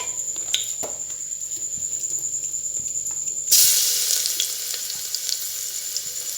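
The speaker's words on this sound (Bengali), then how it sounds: "এতে এলাচ ফাটিয়ে দিচ্ছে আর পেঁয়াজ রসুন দিয়ে হবে তেল হয়ে গেছে" Cardamom pods crackle and sizzle in hot oil before onion and garlic go in, a steady close frying hiss with small pops that swells into a louder, brighter sizzle partway through.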